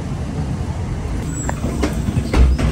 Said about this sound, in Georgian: საჩერებაზე ვარ, რაღაც ავტობუსი მოვიდა.